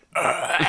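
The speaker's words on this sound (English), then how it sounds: "You do the same gross burp I keep using." A single gross, drawn-out burp, close and loud, rasping for under a second before cutting off abruptly.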